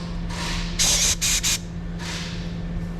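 Compressed air hisses from a torch setup in short bursts, a softer spray followed by louder, sharper blasts and another soft burst, close by over a steady background hum.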